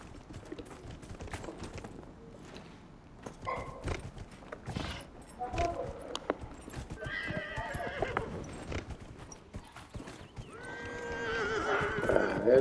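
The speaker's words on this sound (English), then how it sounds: "Tá chamando o cavalo aqui pra gente guiar um." A horse in the video game Dragon Age: Inquisition, with hooves clip-clopping over scattered footfalls and several whinnies and neighs near the end, while other game sounds play quietly beneath.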